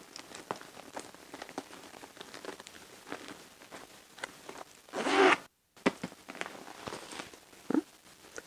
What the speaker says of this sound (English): And this bag does zip up.